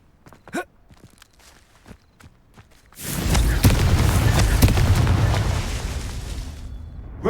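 A Confringo spell blast in Hogwarts Legacy: after a few quiet footsteps and light taps, a loud, sudden explosion erupts and rolls on as a sustained, rumbling roar for several seconds before fading.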